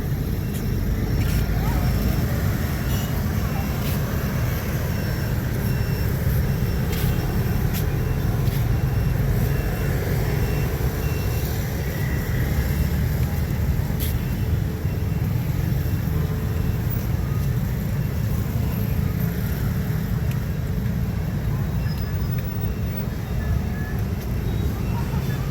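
Dense traffic of many motor scooters near My An Beach in Da Nang, Vietnam, a constant droning buzz of engines close by, with occasional faint beeps and voices mixed in.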